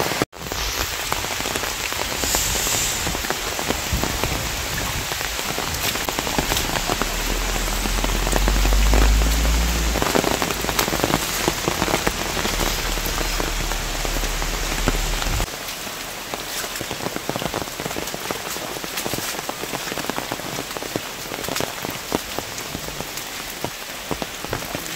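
Heavy monsoon rain pours down outdoors near a flooded well: a loud, steady, dense hiss of drops hitting surfaces that runs throughout, with a low rumble partway through and no talking.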